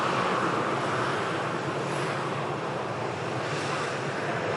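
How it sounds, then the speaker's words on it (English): An Aer Lingus Airbus A330 airliner bound for New York JFK roars as a broad, steady engine rush heard outdoors from a distance, mixed with wind noise, loud and continuous. "on this Aer Lingus A330, bound for New York JFK"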